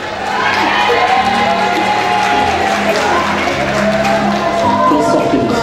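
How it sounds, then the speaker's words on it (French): An audience at a Miss Oise pageant breaks into loud, sustained applause and cheering for a contestant, with scattered shouts rising from the crowd. "Applaudissements pour Kelly."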